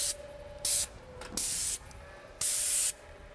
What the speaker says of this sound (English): We're not worrying too much about overspray onto the trim here because we're doing 2 coats.